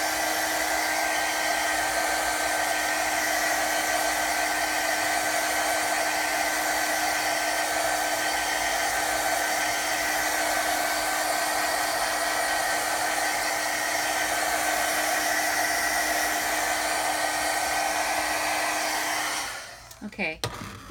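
A hair dryer blows steadily to dry smeared acrylic paint on a journal cover, a loud, constant whooshing hum with a fixed motor whine, running nearly twenty seconds before switching off abruptly near the end.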